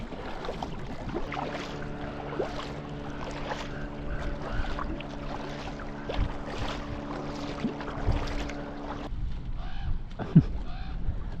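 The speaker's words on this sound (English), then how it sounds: "maybe like 10 minutes of paddling left" Kayak paddling on a lake, steady water swishes and gentle dips of the paddle over a low steady drone and light wind, with a quieter stretch near the end and a brief knock.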